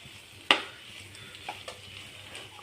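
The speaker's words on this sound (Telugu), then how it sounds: "ఫైనల్గా ఇలా కొత్తిమీర వేసుకొని కలుపుకొని" A spoon stirs a cauliflower fry after coriander leaves go in, with one sharp scrape against the pan, then a few lighter knocks over a low sizzle.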